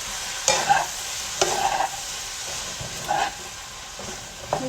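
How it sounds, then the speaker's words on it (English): A bamboo spoon stirs vegetables in a hot pan for pasta primavera, making a few distinct scraping, clattering strokes over a soft continuous sizzle and steam hiss, close by. "we can go with our bamboo spoon here. Stir up the veggies."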